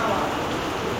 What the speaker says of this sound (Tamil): நீங்கள் பாருங்கள் மழை அடி பின்னுது